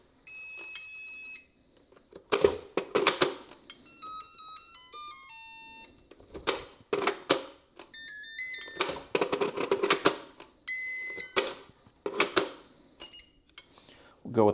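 A Makita-style battery charger for knockoff power tool batteries plays a string of short electronic beeps and melodic tone sequences, loud and close, interleaved with bursts of broadband rattling or handling noise.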